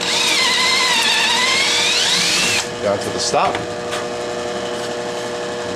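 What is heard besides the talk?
drilling into wood with a drill bit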